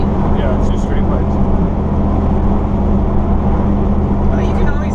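A diesel pickup truck with straight-pipe exhaust and an Allison transmission rumbles steadily and loudly at close range, a dense low drone running unbroken through the whole stretch.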